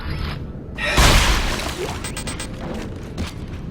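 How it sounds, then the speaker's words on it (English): Corpses being smashed in the horror video game Dead Space 2: a loud crunching, crashing impact near the one-second mark, followed by softer thuds and game ambience with no talk. "Before smashing a few corpses, just in case."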